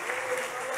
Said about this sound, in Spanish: Dele un aplauso al nombre del Señor.